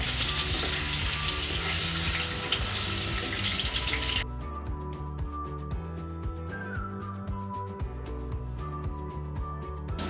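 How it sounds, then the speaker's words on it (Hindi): Paneer cubes frying in hot oil for a dhaba-style paneer masala, a loud steady sizzle that drops abruptly to a quieter crackle midway, with faint clinks and stirring over a low kitchen hum. "इस तरह से हम सारे पनीर को इसमें फ्राई कर लेंगे।"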